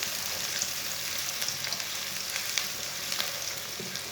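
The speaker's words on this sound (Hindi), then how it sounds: "प्याज को ब्राउन कर लेंगे" Chopped white onion fries with whole coriander and cumin seeds in a pan, a close, steady crackling sizzle with small pops and occasional faint stirring, and no voices.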